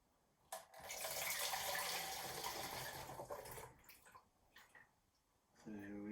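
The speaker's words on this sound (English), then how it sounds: "Be a bit more careful in the pouring, I think." Water pouring steadily into a 2.5 litre bottle, a loud continuous stream lasting several seconds before tapering off into quieter handling sounds.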